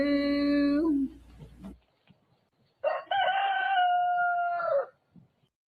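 Two long, loud crowing calls ring out close by, separated by a short pause and ending with faint clucks; the crowing may be a voice imitating a rooster.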